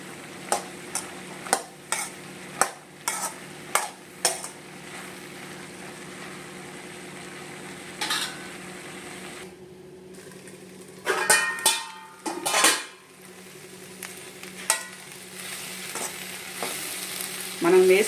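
Four or five coarsely crushed garlic pieces fry and sizzle in a pan with a steady low hiss, broken by repeated sharp clicks and scraping stirs.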